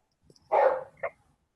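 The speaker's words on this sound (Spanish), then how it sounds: "He oído un perro ahí." A dog barks once, short and fairly distant, followed by a smaller yip, heard over the quiet room tone of a videoconference.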